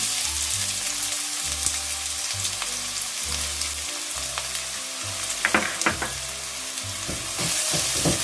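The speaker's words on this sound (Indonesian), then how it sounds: "Bawang bombaynya tumis dulu ya teman-teman semua biar harum." Onion pieces sizzle and crackle in a little oil in a pan, a steady close frying hiss punctuated by scraping stirs and soft clinks of a utensil, with no talking.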